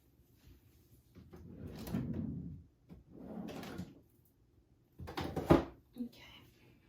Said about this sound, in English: I'm going to put this back in a drawer